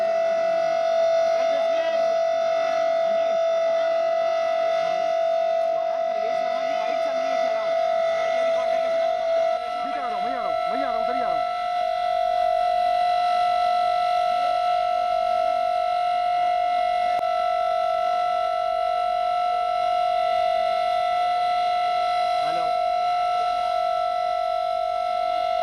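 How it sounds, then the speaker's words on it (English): Civil defense sirens sound during an air-raid drill in the national capital, a sustained steady wail with strong tonal bands that holds loud and unbroken throughout, with faint background murmur beneath. "So those are the sirens going off as"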